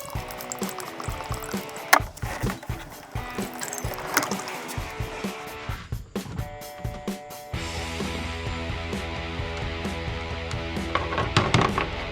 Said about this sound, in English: Oil goes right here. 7 quarts we're putting into it.